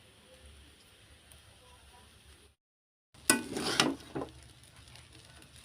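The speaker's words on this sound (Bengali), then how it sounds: "সব কিছু একসাথে ভালো করে নেড়ে নেব" Chow mein with vegetables being stirred in a frying pan, a loud burst of sizzling and scraping after a brief silence, with softer pan noise before it.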